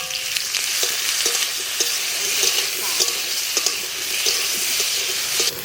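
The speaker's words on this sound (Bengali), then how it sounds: "এই যে পেস্ট ইঁচড়টা দিয়ে দিচ্ছি, একটু ভেজে তুলে নেবো।" Green jackfruit paste frying in hot oil in a wok gives a steady, close sizzle, broken by the scrape and clatter of regular stirring.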